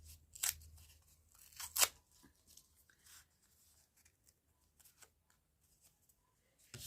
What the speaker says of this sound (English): now I'm going to tear it a little bit